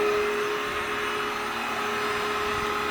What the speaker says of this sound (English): The Ace Cool is considerably quieter than a standard vacuum